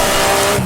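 A race car engine in Assetto Corsa roars loud and close at high revs, holding a steady dense tone through a brief upshift onto a long straight.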